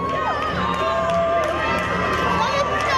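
A large crowd in French Guiana welcomes Miss Guyane with continuous cheering and shouting, a dense, steady roar of many voices with some chatter underneath.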